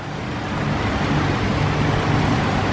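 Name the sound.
backyard pond waterfall, water flowing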